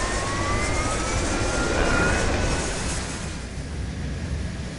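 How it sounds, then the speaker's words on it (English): A small subsonic jet plane's engine roars steadily in ARMA 2: Operation Arrowhead, a broad loud whine with rising tones swelling briefly then settling slightly quieter. "let's jump in this here little beast of a plane"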